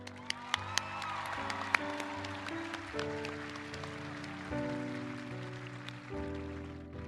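Audience applause at a 2021 high school graduation commencement, a steady wash of clapping with a few sharp claps standing out, heard under sustained tones from a sound system.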